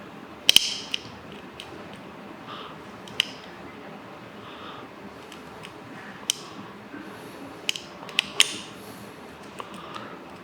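A Phillips screwdriver backs a screw out of a 3D printer during a Micro Swiss NG direct drive install, producing close, irregular creaks and small ticking clicks over a quiet background.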